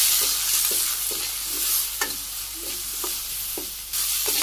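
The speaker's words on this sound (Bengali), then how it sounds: "আলু বেগুন কষানো হয়ে গেছে" Potatoes and eggplant sautéing in a pan with green chillies, salt, turmeric and red chilli powder: a steady broadband sizzle with regular scraping stirs about every half second, close and fairly loud, no talking.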